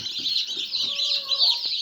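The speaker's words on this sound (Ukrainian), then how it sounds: "І маємо таких гарних курчат." Incubator-hatched chicks peep in a steady, high-pitched chorus of many overlapping chirps, close by and continuous, with no voices.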